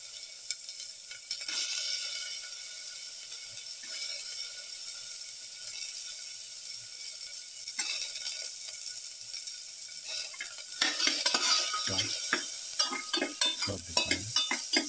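Garlic fries in hot oil in a pan with a steady sizzle. Toward the end, louder scraping and clinking from stirring join in.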